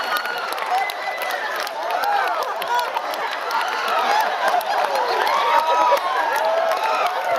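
A concert audience of mostly women cheers and shrieks at a performance, a dense, lively wash of high excited voices and chatter that swells and keeps going throughout.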